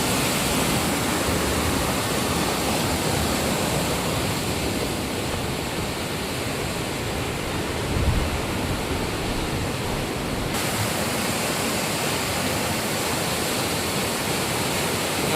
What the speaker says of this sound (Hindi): तेज पानी बह रहा है।